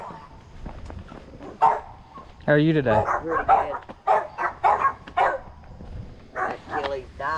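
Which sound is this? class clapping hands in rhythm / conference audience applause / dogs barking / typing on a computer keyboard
dogs barking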